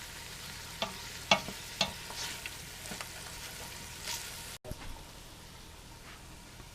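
Onions frying in a pan for a tomato gravy, a steady close sizzle with a few sharp clicks and scrapes of stirring, quiet and without talk.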